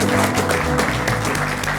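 Studio audience applause on a Macedonian talk show, a dense, steady wash of clapping filling the whole moment at even loudness with a faint hint of voices underneath.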